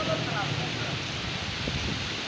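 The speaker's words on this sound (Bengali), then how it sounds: "চরম বাতাস হচ্ছে।" Strong wind gusting hard by a bridge during a dusty storm at night, a steady broadband rush with buffeting against the microphone, loud and continuous for the whole moment, with no voice heard.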